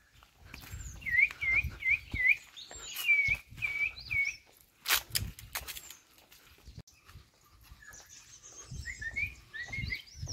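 A person whistles imitation bird calls outdoors, a quick run of four rising chirps followed by a few longer warbled notes, then fainter twittering later, among light footsteps and rustling.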